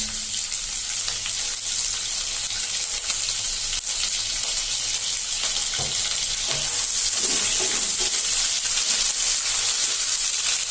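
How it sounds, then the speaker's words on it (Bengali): Onion fries in a pan with cinnamon, cardamom and ginger-garlic paste for chicken chilli, a dense steady hiss with occasional stirring clicks, close and constant with no talking. "পেঁয়াজটা একটু হালকা করে ভেজে নেব।"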